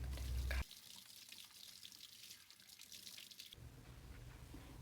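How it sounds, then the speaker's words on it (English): A kitchen tap runs at the sink for hand washing while chocolate chip cookies are being made, giving a faint, steady hiss of flowing water after a short louder burst at the start. "When we're done cracking eggs, we should try to wash our hands."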